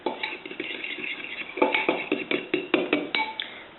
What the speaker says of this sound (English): so we'll give that a stir.